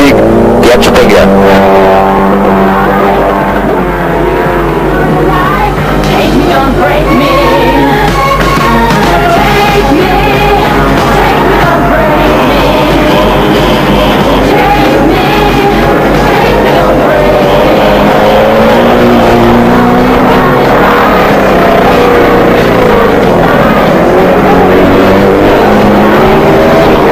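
Race cars, including an Audi Coupé, roar through a final heat in an unmodified class, engines loud and continuous with revving under steady commentary.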